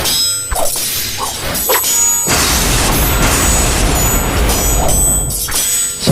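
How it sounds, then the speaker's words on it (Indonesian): Explosions boom without pause across a battlefield in an audio drama effect, a dense, loud roar of blasts, crashes and rumbling debris that swells and holds, with sharp impacts breaking through near the start. "Ledakan terus terjadi tanpa jeda."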